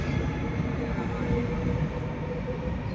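A passenger train runs on a trip through the Netherlands, heard from inside as a steady, close rumble and rushing hiss with no clear breaks or talk.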